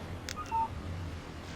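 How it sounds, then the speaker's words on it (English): Phone text message alert in the video game Alan Wake: a short pair of electronic beeps followed by a brief chirping tone, then quiet ambience. "Text message from Barry."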